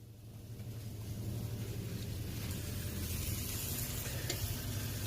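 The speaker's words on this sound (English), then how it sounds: "So always allow your egusi to cook well." Egusi soup simmering in a pot, a steady bubbling sizzle with a low continuous rumble that grows slightly louder and stays even throughout, with no voices.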